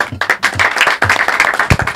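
Applause for Apostle Jean Paul at a concert event, dense clapping from a crowd heard up close and loud for a couple of seconds without pause.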